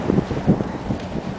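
Cold wind blowing outdoors in snow at around minus three to minus five degrees, a steady low rushing gust buffeting the microphone throughout, with no voices.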